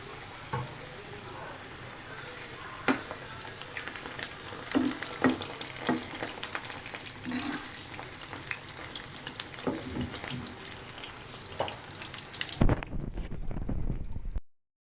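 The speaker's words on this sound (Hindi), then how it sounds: "अब हम इसे फ्राई कर रहे हैं" Potato fries coated in masala and cornflour frying in hot oil give a steady close sizzle with scattered pops and stirring clatter, the bubbling easing off near the end.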